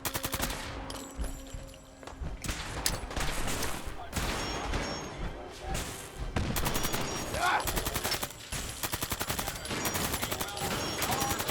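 Gunfire in the video game Fallout 4: rapid machine-gun bursts and repeated shots crackle loudly in quick volleys across the whole stretch, with short pauses between bursts.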